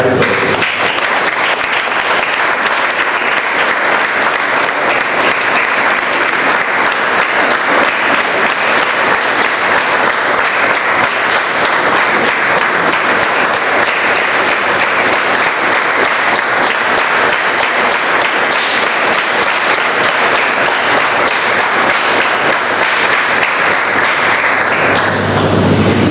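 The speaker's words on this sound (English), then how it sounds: "Please join me in a round of applause for your outgoing club officers." Sustained, loud applause from a Toastmasters club meeting audience in Bombay honoring outgoing club officers, dense even clapping filling the room and continuing unbroken for nearly half a minute.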